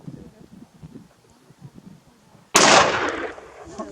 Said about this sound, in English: Last shot.